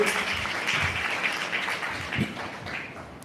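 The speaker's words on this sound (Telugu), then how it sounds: "అందరూ చప్పట్లు కొడుతూ వారిని ఆహ్వానించారు" A church congregation claps to welcome a preacher to the front, a dense, steady wash of applause that carries through at even loudness.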